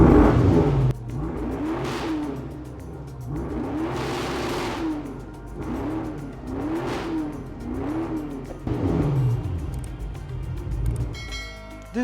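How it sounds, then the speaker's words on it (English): The Naran GT hypercar, a 1000+ bhp machine, sounds its exhaust in a series of loud, close revs, each rising and falling in pitch, with short pauses between bursts and no talking. "I'll live with this exhaust note, guys."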